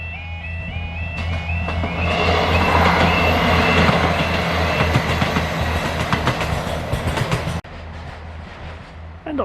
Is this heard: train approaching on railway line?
yes